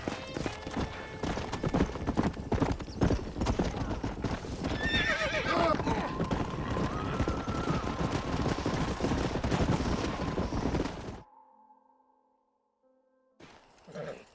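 Horses in the Red Dead Redemption video game, with busy clip-clopping hooves and a loud neigh partway through, mixed with game ambience and some talk, before cutting to near silence.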